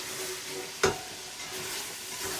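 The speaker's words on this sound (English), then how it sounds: "You can hear the sizzles change as well, it's getting drier" Minced meat for shepherd's pie sizzles steadily in a hot pan, a continuous crackling hiss with one sharp scrape of a utensil partway through.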